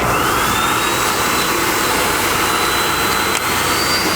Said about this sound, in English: Let's hit it with the blower and see where we're at here